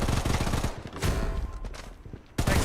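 Gunfire in the shooter game Bloodstrike, loud bursts of rapid shots that run together, drop away into a quieter stretch, then come back hard right at the end.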